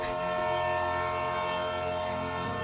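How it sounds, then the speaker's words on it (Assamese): An arriving train sounds a long, loud, sustained horn blast, a steady tonal blare that holds for the whole stretch without a break. "মোৰ ট্ৰেইন আহিল।"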